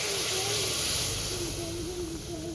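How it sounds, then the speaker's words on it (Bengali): Milk hits hot fried spice paste in a pan for prawn malai curry, bursting into a loud, steady hiss and sizzle that stays close and continuous throughout, with no talk. "তো এখন আমি এখানে দুধ দিয়ে দেবো।"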